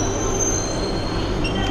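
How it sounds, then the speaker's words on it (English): Loud, steady metallic squeal of Beijing subway train wheels with a constant rumbling roar underneath, close by and continuous. "Loving the subway here in Beijing."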